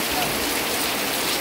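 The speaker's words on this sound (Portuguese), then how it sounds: "É chuva, viu?" Steady, dense rain pours down during a November thunderstorm, a continuous close hiss of drops striking surfaces with no break.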